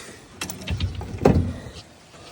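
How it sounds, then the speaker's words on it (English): A solar cooker baking an apple pie is unlatched and opened, giving a couple of close clunks and a rattling scrape of lid and latch hardware against a quiet background. "we're going to go ahead and pull that out as we unlatch it and"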